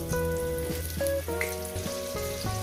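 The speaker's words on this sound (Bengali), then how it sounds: "সুন্দর করে আমি আলুগুলো ভেজে দিচ্ছি" Potato pieces sizzle steadily in hot oil in a pan during cooking of a jackfruit dish, a soft continuous crackle under louder tonal music.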